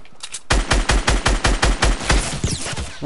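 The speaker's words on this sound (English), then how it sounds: "Why are you shooting at me" Rapid automatic gunfire in a video game, a loud close burst of about a dozen evenly spaced shots that then trails off into quieter scattered sounds.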